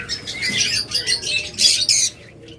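A pair of violet masked lovebirds at a bird sale chirp and squawk close by in rapid, shrill overlapping bursts, with a louder cluster of calls near the end.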